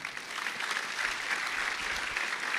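Steady applause from a church congregation, a sustained wash of clapping that holds at an even level throughout with no voices above it.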